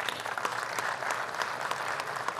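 Applause in the Brazilian Senate during a session honoring 40 years of Brazil–Palestine diplomatic relations: steady, dense clapping from a sizable crowd, moderately loud and continuous throughout.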